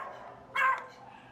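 A playful dog gives a single short bark, fairly faint and somewhat distant, against a quiet background.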